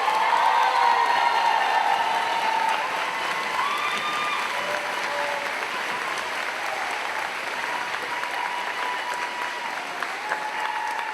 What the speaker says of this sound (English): One more round of applause for the class of 2020.